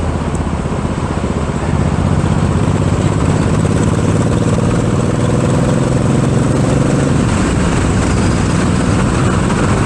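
A 2024 Kawasaki Eliminator's engine hums steadily while riding, under loud, constant wind rush blowing across the rider, close and unbroken.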